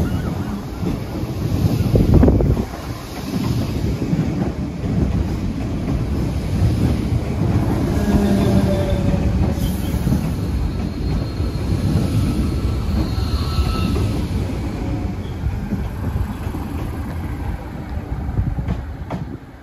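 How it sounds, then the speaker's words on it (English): A train passing on a Dublin-area railway in Ireland, heard outdoors as a steady broadband rumble and rush lasting the whole stretch, swelling early and staying loud, with wind buffeting the microphone throughout. "here comes the Heuston train"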